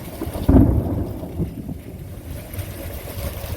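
Thunder in a thunderstorm, a deep low rumble that breaks loudly and then rolls on in a long, fading grumble beneath steady rain.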